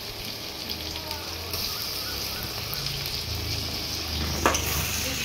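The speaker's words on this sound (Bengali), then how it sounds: "এবার টমেটো দিয়ে দেবো" Steady sizzle of tomato added to a spice mix frying in oil for a sea crab curry, with faint stirring scrapes and one sharper clack near the end.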